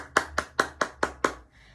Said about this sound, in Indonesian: tepuk tangan buat Reza.